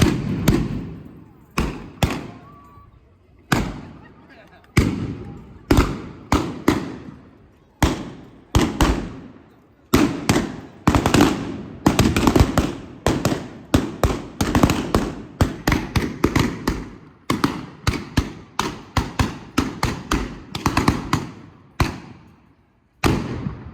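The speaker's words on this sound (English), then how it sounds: "Amid a hail of gunfire, Bill Dalton and the Knight brothers make" Rapid sharp staged gunshots from a Dalton Days reenactment crack in bursts and volleys, some single, some clustered, loud and near with echoing tails between.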